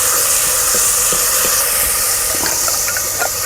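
Gravy poured into a hot pan for a bitter gourd (karela) curry hisses and sizzles steadily throughout, a dense continuous steam-like hiss with a few faint crackles and pops rising near the end.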